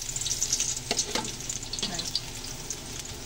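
A little garlic sizzles loudly as it fries in a pan for beef with broccoli. Crisp crackling fills the clip, with a few sharp clinks from stirring.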